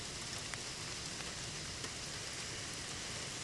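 Steady, dense hiss of heavy rain falling in downtown Augusta, Georgia as Hurricane Idalia passes, an even broadband wash with faint scattered drops throughout and no voices.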